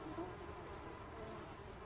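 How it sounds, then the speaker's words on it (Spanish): Flies buzz inside a building in the zombie survival game Project Zomboid, a faint, continuous insect drone that hums evenly throughout with no voices over it. "la cantidad de moscas que hay"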